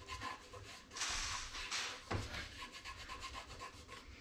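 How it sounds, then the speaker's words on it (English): Stencil application tape being rubbed down onto a surface for painting a Yorkshire rose, a close, soft scraping rub in several strokes of varying length, with no talking. "give it a little rub down, making sure it's all stuck"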